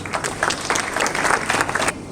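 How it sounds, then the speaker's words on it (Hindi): Audience at an environmental awards ceremony claps to welcome honourees, a lively, uneven ripple of many hands that swells and fades slightly over two seconds. "मैं चाहती हूँ कि आप तालियों की गड़गड़ाहट के साथ उनका"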